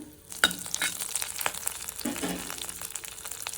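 Slit green chilies and urad dal frying in hot oil for a Tamil moringa leaf poriyal, close sizzling with sharp crackles and pops, strongest near the start and scattered throughout.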